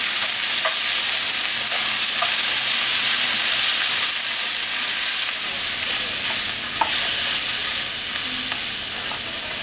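Peppers sizzle steadily in a hot pan, a dense continuous frying hiss with a few light stirring clicks, close and fairly loud, no voices.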